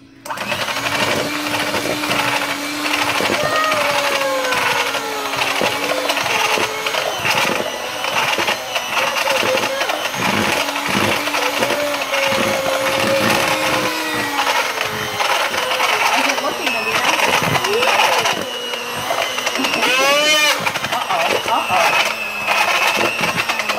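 Chocolate chip cookie dough being mixed: a loud, steady motorized whirring runs through the whole stretch, with voices talking over it.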